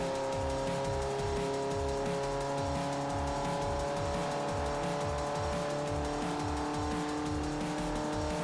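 A race car engine with squealing tires in the video game Forza Motorsport 4 holds a steady, loud drone. Rhythmic pulsing runs underneath through the whole stretch.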